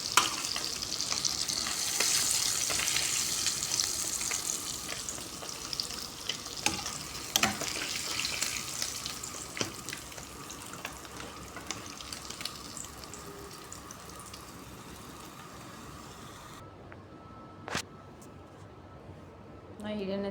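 Sea fish frying in an oil-filled pan gives a steady, close, broadband sizzle throughout, with a few sharp clinks and pops, easing slightly toward the end.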